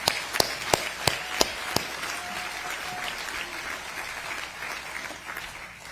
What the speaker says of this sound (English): let's clap it up for this group